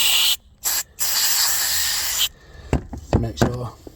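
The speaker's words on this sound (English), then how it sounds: "Just gonna spray some copper grease inside." Copper grease hisses from a spray can in two short bursts and then a longer continuous spray inside a 5-speed gearbox, followed by rubbing and handling noises of the gearbox parts.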